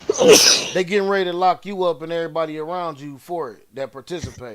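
A single loud, sharp sneeze opens the moment, followed immediately by someone talking steadily in a casual conversation.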